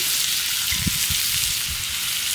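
Shrimp sizzle in oil on a flat griddle with desert gold seasoning, a steady close hiss of frying with a few soft pops and no talking.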